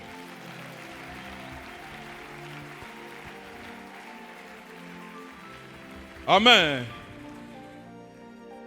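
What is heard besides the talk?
audience applauding at a church service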